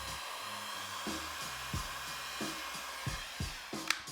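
A heat gun or hair dryer blows steadily on a Reshoevn8r Sole Shield wrapped over the sole of a Jordan Royal 1 sneaker, a continuous close whooshing hum with faint wavering undertones, with no voices.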